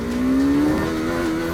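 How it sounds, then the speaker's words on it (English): A 2023 KTM 390 Adventure Rally motorcycle engine revs at low RPM, a steady droning tone that climbs slightly in pitch, close and loud with no talk. "at low RPMs, the engine is a little stressed"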